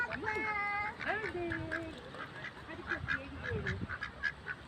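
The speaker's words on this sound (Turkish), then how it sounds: "Bak burada da ördekler var." Ducks quack repeatedly in short bursts at a moderate distance, with a few honking calls and a soft outdoor background.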